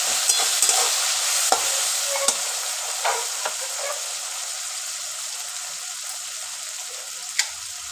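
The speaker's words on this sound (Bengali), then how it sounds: "ভালো করে এটা ভাজতে থাক" Potatoes and boiled taro fry in a pan with a continuous loud sizzle, punctuated by several short clicks and taps as they are stirred.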